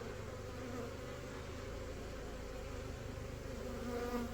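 A honeybee swarm hums steadily and densely around frames in a hive box, a continuous close, loud buzzing of many bees throughout.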